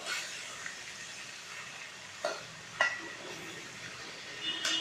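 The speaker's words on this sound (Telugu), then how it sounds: "ఇలా చిక్కుడుకాయ వేసుకొని బాగా కలపాలను." Broad beans (chikkudukaya) stirred in a pan for a home-style Telugu curry give a soft, steady sizzle with a few brief scraping clinks of a spoon against the pan, heard up close with no talking.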